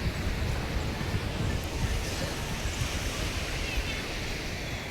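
Sea waves wash in at Nagoa beach in Diu, a loud, continuous roar of surf with strong wind buffeting the microphone, steady and close throughout.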